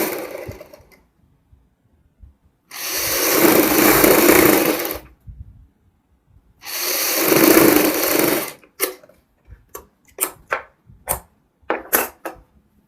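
Sewing machine stitching a strip onto a girl's fancy dress, two sustained bursts of rapid whirring stitching separated by a pause, followed by several short stop-start clicks, close and alone.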